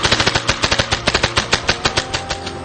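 A paintball gun fires in a fast burst of sharp, evenly spaced pops as the trigger is walked with two fingers, loud and close, with no other sounds.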